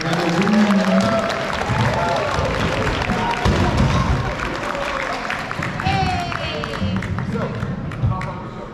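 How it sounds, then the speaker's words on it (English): Audience applauding and cheering for a martial arts demo team at a belt promotion event, a dense sustained wash of clapping from a crowd, with voices talking over it. "Let's give a big, big round of applause for them."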